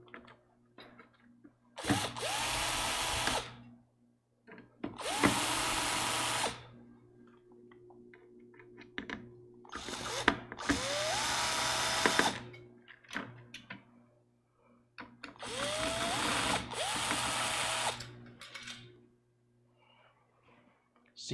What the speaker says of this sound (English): Not enough torque on the driver to loosen those, so we'll torque it up.